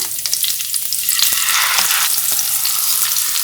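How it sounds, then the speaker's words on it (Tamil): Fish fries in hot coconut oil with curry leaves, a loud, close and constant sizzle with crisp crackling and spitting that holds steady throughout. "இப்ப மீன் பொறிச்சுக்கலாம்"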